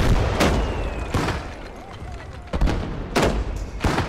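Mortar fire in Gates of Hell, several sharp thumping blasts spaced irregularly, each with a short rumbling tail, loud and close amid battlefield noise.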